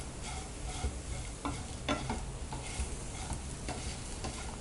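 Colocasia (taro) pieces roasting in a pan, a quiet crackling fry broken by repeated scraping stirs of a spatula at irregular intervals, close but faint, with nobody talking.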